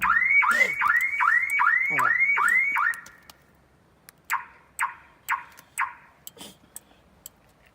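A car alarm arms as the vehicle is locked, giving a rapid run of repeated rising electronic chirps for about three seconds. A series of separate short, crisp beeps follows, spaced roughly half a second apart, with no talking.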